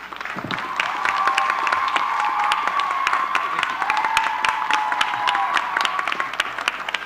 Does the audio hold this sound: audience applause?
yes